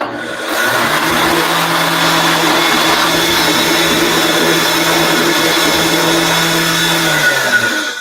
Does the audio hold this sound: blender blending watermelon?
yes